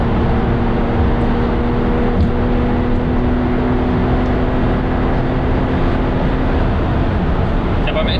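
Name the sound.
Porsche 992 Targa 4S accelerating in sixth gear, manual mode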